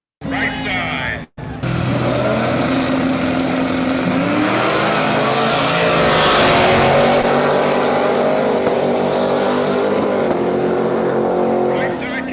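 No-prep drag race cars roar down the strip in a finals pass, a loud sustained engine howl that rises and holds, with commentators talking over the noise.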